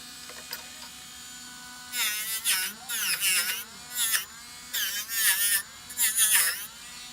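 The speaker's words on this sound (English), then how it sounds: "let's switch over to one of our sanding discs, one of these guys" Sanding disc on a rotary tool smoothing a Herkimer Diamond fork pendant: high whining bursts, near and loud, starting and stopping about six times with short pauses between.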